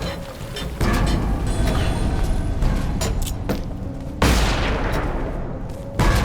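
Time bombs detonating in Lara Croft and the Temple of Osiris, heard as loud gunfire-like blasts at about one second and just after four seconds, over steady clattering game mechanisms and background ambience.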